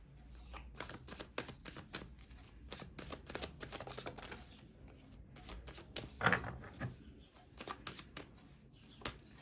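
Tarot cards shuffled and drawn from a deck, a dense run of quick riffling snaps and soft slaps close by, with a sharper flurry midway and no talking.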